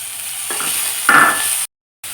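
Cabbage, carrot and beetroot are sautéed in a pan, with a steady close sizzle and a couple of brief stirring scrapes before a short drop to silence.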